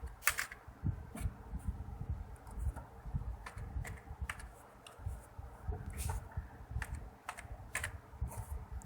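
Steady typing on a computer keyboard while a Fiverr gig description is entered: a quiet, uneven run of key clicks with brief pauses, over a faint fan-like room hum.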